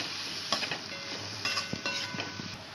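Garam masala and spices for a roasted-coconut chicken curry are sautéed in a pan, a faint low sizzle with a few soft spatula scrapes, no speech.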